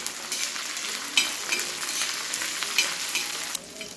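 Cumin seeds and green chillies roast in a hot pan with a steady crackling sizzle, broken by a few stirring scrapes, and no one speaks.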